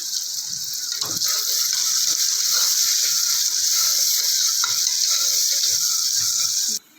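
Onions frying with salt in a pan, a steady bright sizzle with crackling and popping throughout, close and loud, cutting off at the very end.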